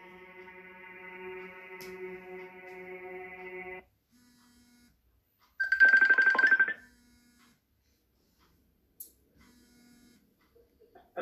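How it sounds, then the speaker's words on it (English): A phone rings during a call, starting with a steady buzzy electronic tone that stops abruptly, then a short loud burst of ringing follows after a pause, with faint hum around it. "Let me call you on this phone."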